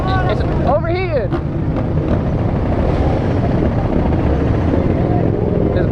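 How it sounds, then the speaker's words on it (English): An overheating dirt bike engine idles and revs at a gas station with a steady rough drone throughout, loud and close, while people talk and shout over it. "His bike is overheating, bro."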